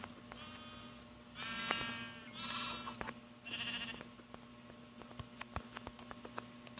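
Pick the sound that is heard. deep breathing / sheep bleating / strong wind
sheep bleating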